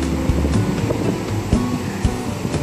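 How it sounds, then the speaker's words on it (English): Atlantic Ocean surf on the Gulf of Guinea coast in Ghana, at night, rolls as a steady broadband wash with a few soft thumps of breaking water, no voices heard. "West Africa, on the Atlantic, Gulf of Guinea ocean."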